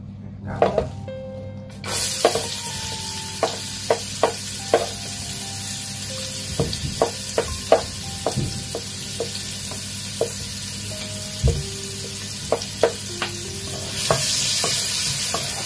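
Oil heating in a pot for Goan peas pulao sizzles steadily at close range, with repeated scraping and clinking from stirring utensils and a louder hiss swelling near the end; no one speaks.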